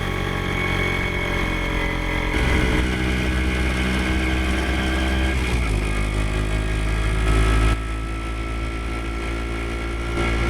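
A Kawasaki F7 motorcycle engine runs close by, a loud, steady, throbbing drone with a slight shift in pitch partway through and a drop in level near the end, heard alone without any talk.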